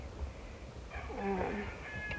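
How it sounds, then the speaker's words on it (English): A cat meows outdoors near chicken pens, a drawn-out wavering cry heard faintly over steady background hiss, with no one speaking. "might be a cat. I see the cat over there"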